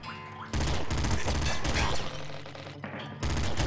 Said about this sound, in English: I got like 16 machine guns